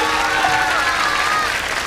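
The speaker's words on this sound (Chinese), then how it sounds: "掌声送给他" An audience applauds steadily at a lecture event as a guest speaker is introduced, a dense, continuous patter of many hands clapping throughout, with no voices rising above it.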